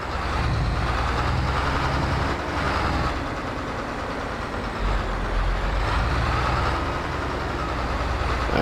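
A truck backing up to a trailer in a farming video game, a steady loud engine rumble with faint reversing beeps running throughout, no talk.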